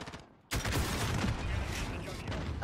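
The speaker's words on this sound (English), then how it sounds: "Oh, we shot each other." Call of Duty gunfire: after a brief quiet moment, a dense burst of rapid shots erupts and keeps up loud and close for about two seconds, mixing rattling automatic fire with heavy booms.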